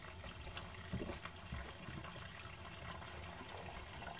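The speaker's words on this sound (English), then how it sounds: "I gotta let this water heat up again." Tap water runs steadily into a kitchen sink while waiting for it to heat up, a continuous close splashing hiss with no talking.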